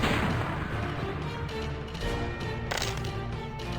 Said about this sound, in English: shoot the turtle!